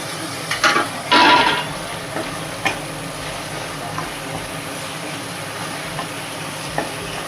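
Ginger garlic paste sautéing in a pan for a Chennai-style vadacurry, with a brief burst of sizzling and stirring followed by quieter scattered clicks and faint frying.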